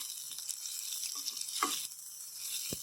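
Onions and tomato frying in a pan with a continuous bright sizzle, broken by a few soft stirring scrapes and a low knock near the end, heard up close.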